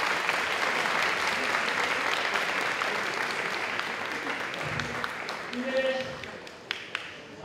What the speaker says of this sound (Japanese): 会場の皆さん、拍手、高田選手に 拍手をお願いしま す